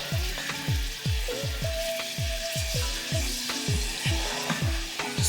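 Shrimp scampi sauce made with wine being stirred in a pan, heard as a steady close sizzle with repeated scraping strokes and clinks in a regular rhythm and no talking.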